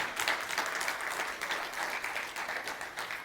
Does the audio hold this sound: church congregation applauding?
yes